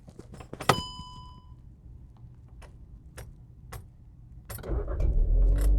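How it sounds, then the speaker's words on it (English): A car ignition key turns with a jangle and clunk, followed by sparse clicks and taps, then the engine starts and swells into a low, loud rumble at the end. "So you hear that sound of the engine. That tells you that the car is on."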